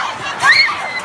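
A panicked concert crowd flees in Manchester after a suicide bombing: a dense wash of crowd noise with high shrieks and yells rising briefly in the middle of a short burst.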